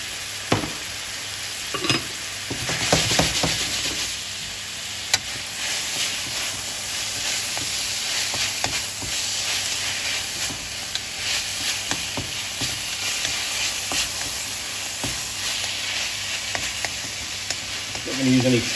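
Meat sears in a hot pan for carbonara, a steady close sizzle and hiss with intermittent scraping stir strokes throughout, no talking.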